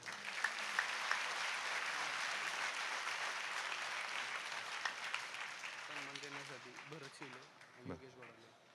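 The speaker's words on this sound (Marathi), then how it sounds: "आपण सर्वांनी या गुरुवरांच्या सन्मानात टाळ्या वाजवायच्या आहेत." An audience claps steadily in honour of gurus at a religious felicitation ceremony, sustained applause that thins toward the end as a voice begins speaking over it.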